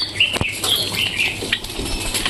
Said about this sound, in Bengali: সর্ষে দেওয়ার সঙ্গে সঙ্গে সব কবুতর চলে আসে